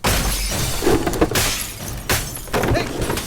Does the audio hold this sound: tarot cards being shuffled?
no